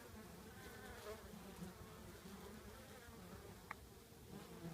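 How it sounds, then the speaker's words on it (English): Honeybees hum in a big, gnarly live oak tree in North Texas, a faint, continuous swarm drone with no voices, only a brief tap near the end. "we have some honeybees in a pretty big, gnarly live oak tree here in North Texas"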